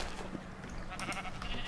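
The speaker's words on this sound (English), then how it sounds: "let's get some sheep out" Sheep in a modded Minecraft game let out short bleats over a steady bed of background game noise, with a few brief calls spread across the moment.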